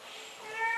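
Soft, high meowing from kittens, a brief thin cry rising near the end over a quiet room.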